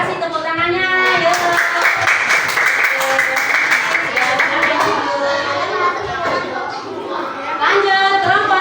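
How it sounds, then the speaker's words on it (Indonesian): Schoolchildren in a classroom clap for a group presentation, with a burst of rapid, uneven clapping mixed with children's chatter and voices, then fading into talk before the noise rises again. "Terima kasih, tepuk tangannya."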